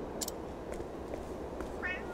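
A cat meows a couple of times in the game Octopath Traveler 2, short high cries over a steady background of soft game music or ambience.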